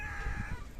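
Sonali chickens housed in a shed give a brief, close run of clucking and crowing calls over a low, steady background rumble.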